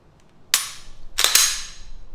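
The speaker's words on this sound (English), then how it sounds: "Some dry fire." Two sharp, close metallic clicks from a gun being dry fired at a shooting range, spaced about three-quarters of a second apart, each with a brief bright snap and no other sound around them.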